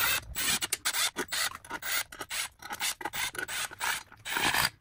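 A ratchet tightens the bolts on a 68RFE transmission valve body, giving close rapid clicking bursts with short pauses between strokes and no talk.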